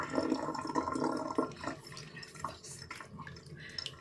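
Water trickles and drips steadily from a leaky faucet, fairly close, with a fuller splashing stretch early on before it settles to a lighter trickle.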